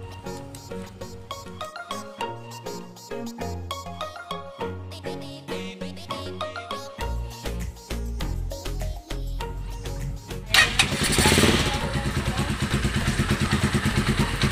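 A Z200S motorcycle engine idles low at about 1000 RPM during a tune-up, a steady mechanical clatter close by that grows louder and rougher near the end.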